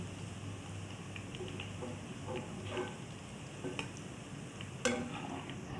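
Onions and green chillies fry in hot oil in a kitchen, giving a steady soft sizzle with faint crackles and a few light stirring clicks, with no talking.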